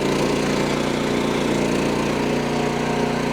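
A compact construction machine's engine idling close by, a steady, loud mechanical drone with a fast, even chug and no pause.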